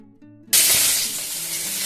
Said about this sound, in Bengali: সবজিগুলো আমি একটা একটা করে ভেজে তুলে রাখি